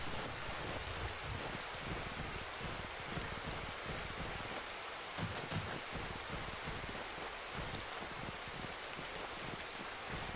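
Heavy rain pours down steadily in a snowy village among fir trees, a dense, continuous hiss of drops on surfaces with some wind, close and loud throughout with no voices.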